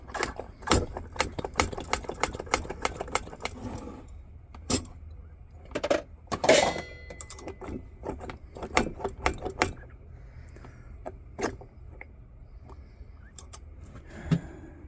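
A Chinese pressure stove clamped in a vise is pumped by hand, giving a series of sharp clicks and knocks, irregular and close, with quieter mechanical rattles between strokes and no talking.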